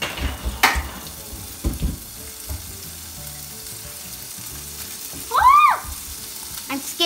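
Bacon frying in a home kitchen pan, a steady broadband sizzle with scattered crackles and pops, a brief sharp clatter near the start and a short high squeal toward the end.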